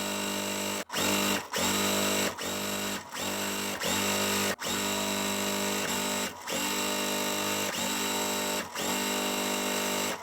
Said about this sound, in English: But let's just sew it and see what it looks like.